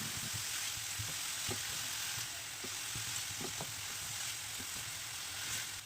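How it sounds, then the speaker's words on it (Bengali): Chopped onion and tomato fry with garlic in hot oil, a soft continuous sizzle with a few light stirring knocks and scrapes, fairly quiet and close. "চপ করে রাখা পেঁয়াজ আর টমেটোটা দিয়ে কিছুক্ষণ নাড়াচাড়া করে ভেজে নেব"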